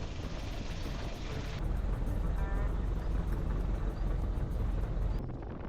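Piper Super Cub tailwheel airplane rolling out after landing at Awaroa, a steady loud engine and airframe drone that deepens partway through and holds as the plane slows, continuous throughout.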